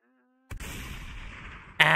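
A single sharp gunshot in VRChat cuts in after near silence, followed by a lingering ringing tail and a second loud hit near the end.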